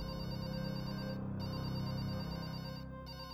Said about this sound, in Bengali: ও শান্ত মতো শুচ্ছিল, তখনই হঠাৎ ওর কানে ফোন বাজার আওয়াজ আসে